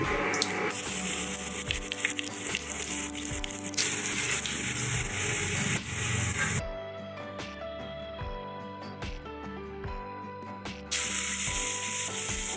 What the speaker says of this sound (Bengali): এবার প্রথমেই আমি ফোড়ন দিচ্ছি, 5 ফোড়ন।